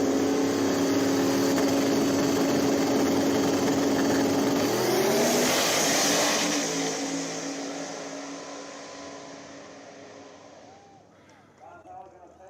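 Race cars speeding through a weekend semifinal race, engines droning steadily then rising as a car passes close and fades into the distance, with talk over the top.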